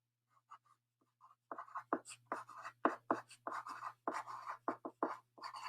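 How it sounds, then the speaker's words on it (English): Pencil or pen scratching out a name in the top corner of a sheet of paper for a first-grade art lesson, a run of short close strokes over a faint steady hum, no talking. "my first step today, like always, is to write my name on my paper"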